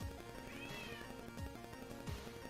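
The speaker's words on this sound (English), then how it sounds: "You guys hear my cat in the background?" A cat meows once, a drawn-out rising and falling cry somewhere in the background of a room where someone is drawing, partly buried under a steady bed of music.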